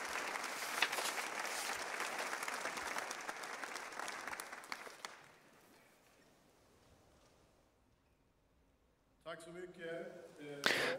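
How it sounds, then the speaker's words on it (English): Applause at a Holocaust remembrance night, loud sustained clapping from an audience for about five seconds, then fading to near quiet before a speaker begins talking. "Let's give them an applause."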